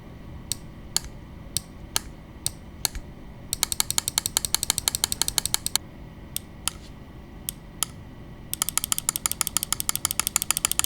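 Endgame Gear OP1we mouse buttons click sharply, lighter switch on button 1 and heavier on button 2, first in slow single presses, then in rapid bursts of fast repeated clicking, close and crisp against quiet background hiss.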